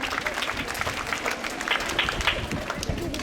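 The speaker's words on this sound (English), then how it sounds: "Let's clap for blue, everyone." Children and adults at an abacus school event give steady applause for a team, a moderate wash of many claps with some voices underneath.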